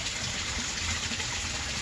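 A backyard pond waterfall with its built-in filter running after winter, water gushing and splashing in a steady, close, continuous rush.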